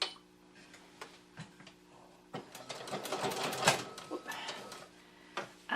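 A sewing machine stitches quilt binding after the needle is lowered, its mechanical clatter quiet and intermittent at first, then running steadily louder in a busy stretch before trailing off into a few short bursts.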